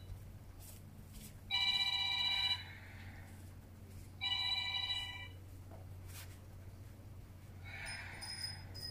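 A telephone rings in two loud bursts of about a second each, separated by a pause, with a fainter third ring starting at the end over a low steady hum in a quiet room.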